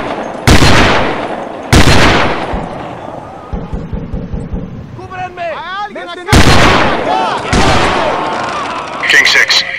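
Sniper gunfire from the video game Delta Force Land Warrior: sharp, loud single shots crack out in a sparse sequence, each with a booming decay, alongside smaller bursts and other game effects.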